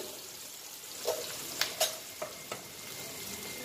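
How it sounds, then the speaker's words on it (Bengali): Ash gourd fries in a pan with onion and green chilli, giving a low, steady sizzle broken by a few light clicks of a stirring utensil against the pan. "আমি যেভাবে জালি কুমড়াটা ভাজি করছি"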